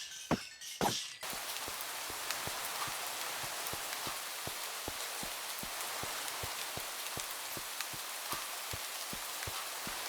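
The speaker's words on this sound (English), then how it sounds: "It always seems to rain here on Site 17" Steady Minecraft rain hisses without a break, broken by sharp regular clicking taps at an even rhythm after a couple of louder thuds at the start.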